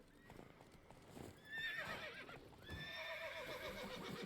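A horse neighs and whinnies in The Witcher 3 amid hoof clatter and a busy fight scene, the loud whinny rising sharply near the middle and continuing over other commotion.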